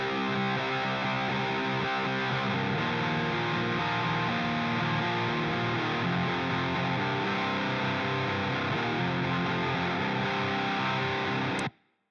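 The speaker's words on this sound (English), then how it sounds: "Now my main right guitar is this Mesa Boogie." Electric guitar run through a Mesa Boogie amp simulation in Amplitube 5, playing alone as a dense, heavily distorted chugging riff held at a steady loud level for about twelve seconds before it cuts off abruptly.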